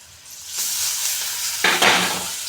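Ground coriander paste frying in a pan with a little turmeric for coriander rice, a steady sizzle that swells louder with stirring scrapes toward the end, close and alone.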